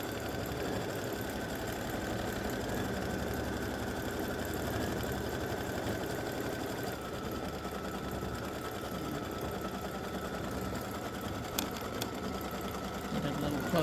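An embroidery machine stitches a patch with a continuous, fast, buzzing mechanical whir at moderate volume, running steadily without pause while a voice talks faintly over it.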